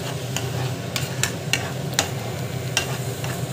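A pot of masala water bubbles and hisses at a steady simmer while a utensil clinks against it every half second or so.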